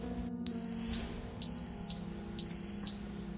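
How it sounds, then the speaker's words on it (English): Three evenly spaced high-pitched electronic beeps, each about half a second long, sound close and clear over a quiet background hum. "We just had the 6 beeps, which indicate that the waffle maker is now ready."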